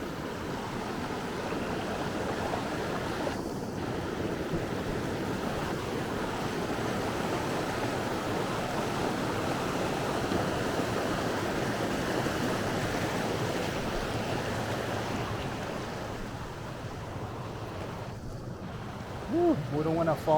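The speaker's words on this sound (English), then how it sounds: "again, another river crossing" Rushing river water at a log crossing on an ultra running trail, a steady broadband flow close by that persists alone throughout, with brief wind buffets on the microphone.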